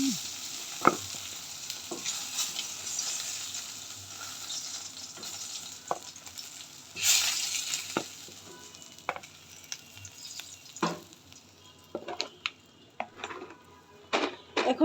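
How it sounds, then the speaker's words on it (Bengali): Fish coated in turmeric and salt fries in hot oil, giving a steady close sizzle with scattered sharp ticks and occasional utensil clinks over about fifteen seconds. "প্রথমে আমি হলুদ লবণ মাখিয়ে রাখা মাছটা ভালোভাবে ভেজে নেব।"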